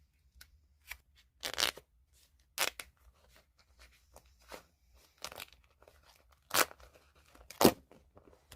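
Packaging seal of a Samsung Galaxy Tab S8 Ultra box being torn, a run of short, crisp tearing and crinkling bursts separated by quiet gaps, close and fairly soft.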